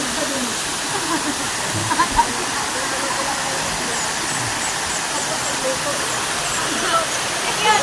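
Waterfall at Lerop Cave, a steady broadband roar of falling water that fills the whole clip evenly, with brief faint voices in the background.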